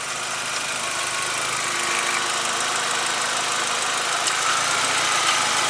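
A Volkswagen MK4 Golf engine runs steadily at idle with worn motor mount bushings, a loud, constant mechanical drone with broad hiss and no talking.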